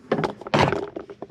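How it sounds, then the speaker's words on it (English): Door handle on a 2009 Nissan Versa sliding and locking into place, a couple of short close plastic-and-metal thunks and clicks in quick succession. "shift the door handle, which locks it into place."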